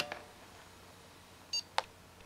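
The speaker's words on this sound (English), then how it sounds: "see, it beeps at us from the system speaker." A single short electronic beep rings out clearly from an NEC laptop's system speaker as it enters sleep in a quiet room, preceded by a brief faint tone and a small click.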